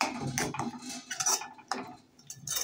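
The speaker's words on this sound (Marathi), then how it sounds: "आता याला छान मिक्स करून घेऊया आपण" Mushroom masala stirred in a pan, a spoon scraping and tapping against metal in a few close, moderately loud strokes with brief pauses between them.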